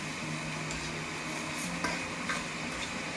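Cereal flakes stir-fried in a wok for butter prawns, a constant close sizzle with faint scraping and light taps of the utensil, steady throughout and no talking.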